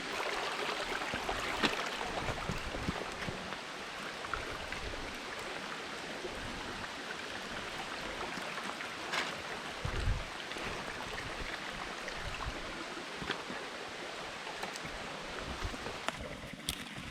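Creek water trickles and burbles steadily during a crossing, with occasional splashes and footstep-like knocks close by and no voices.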